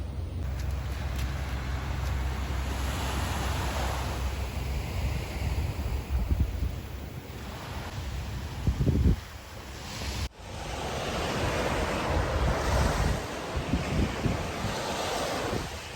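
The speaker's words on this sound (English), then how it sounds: "now I'm actually at the beach where I wanted to be" Surf rolls and breaks at a Sydney beach, heard as a loud, steady wash under heavy wind buffeting the microphone, with a brief dip midway before the roar returns.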